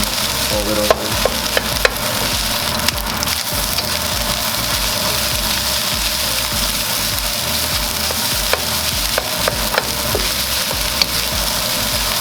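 Fried rice is stir-fried in a pan under a continuous loud sizzle, with frequent quick scrapes and taps of a utensil against the pan throughout.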